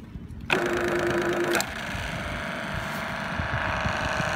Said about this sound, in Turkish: Bu hidrolik compression machine'de.